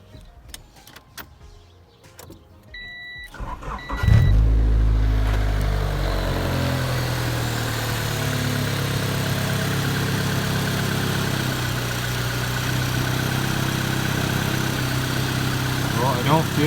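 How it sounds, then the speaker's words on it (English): Honda Civic EJ1 engine cranking and starting after a few clicks and chimes, then settling into a steady, close idle for over ten seconds while parked in neutral. "I'm gonna start the car and kind of feel underneath the master cylinder."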